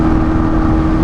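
A Honda Hornet 250 motorcycle engine revs with a loud, steady, buzzing high-pitched tone throughout a brief moment, up close and alone.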